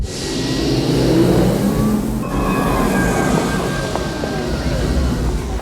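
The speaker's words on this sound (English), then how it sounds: "Porsche engineered fake sounds to make you feel more comfortable" A smooth synthetic whine rises in pitch as a Porsche Taycan Turbo S electric car accelerates, a steady electronic hum with faint talk underneath.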